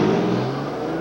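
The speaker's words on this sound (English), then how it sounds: "Nissan 300ZX Turbo." Nissan 300ZX Turbo engine revving, a loud, steady, sustained engine tone that holds briefly without talk.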